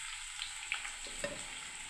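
Potatoes for a soybean and potato curry sizzle and fry in a pan, a steady soft crackle with a few brief clicks of stirring, heard alone without talk.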